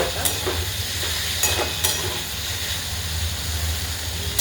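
Potatoes with soaked sago and crushed peanut powder are stirred in an oily pan for fasting khichdi, a steady close sizzle and hiss with a few spoon scrapes against the pan, no voices.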